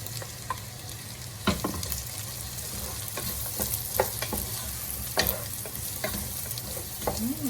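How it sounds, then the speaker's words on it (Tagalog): Onions frying in a pan while being stirred for tuna pasta, a steady close sizzle broken by the repeated scrape and clack of a utensil against the pan, no talking. "pagluto ng ating sibuyas"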